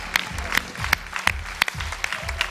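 A television talent-show audience applauds, with sharp, regularly spaced claps standing out over a steady crowd wash and a low rhythmic backing.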